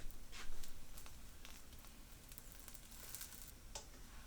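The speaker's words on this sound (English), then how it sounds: "Let the pancake cook on the other side." A scallion pancake fries in a hot pan, giving a steady, soft sizzle and crackle with faint spits, close by and with no talking.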